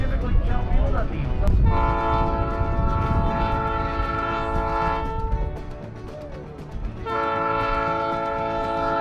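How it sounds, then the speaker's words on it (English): A Leadville, Colorado and Southern Railroad train sounds its horn in long, loud, steady blasts, with a short gap between them. The train rumbles underneath throughout. "We're riding on the Leadville, Colorado and Southern Railroad today."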